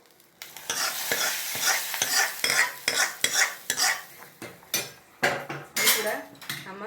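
Spices, including cumin and fenugreek, are dry-roasted in a metal pan. A utensil scrapes and knocks against the pan in quick repeated strokes, loud and close, with a light crackle between them.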